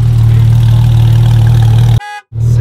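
Aston Martin V12 engine running loud and close, with a steady deep drone for about two seconds before cutting out abruptly, then resuming briefly.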